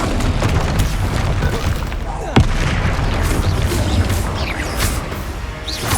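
Bombarda spell explosions in the Hogwarts Legacy video game, heavy booms and crashing blasts amid an ongoing magical combat din, with one sharp impact standing out midway.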